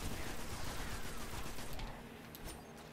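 Heavy, continuous gunfire in the sci-fi shooter Destiny, a dense roaring barrage that thins out toward the end with a few separate shots, loud and close.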